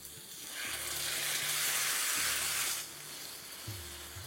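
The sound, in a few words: mutton pieces sizzling as they are added to the pan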